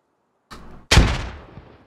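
A grenade goes off in a video game: a brief crackle, then one loud, close blast whose rumbling tail fades away over about a second, with no voices.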